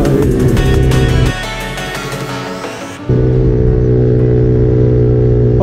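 A Mercedes car's exhaust crackles and pops in quick sharp bursts over a loud engine rumble, then the engine drones and revs on steadily, close by, with no one talking.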